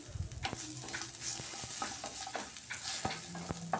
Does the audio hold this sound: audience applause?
no